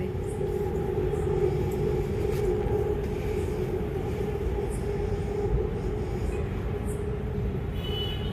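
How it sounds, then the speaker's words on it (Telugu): A metro train rolls past at night beside a small garden, a steady low rumble of wheels and carriages that holds constant and fairly close, with faint high squeals now and then and no talk. "మళ్ళీ ఇంకొక ట్రైన్ వస్తుంది."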